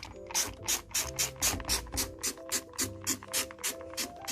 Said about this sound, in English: So I'm just going to start by spraying the Flash into the washing machine.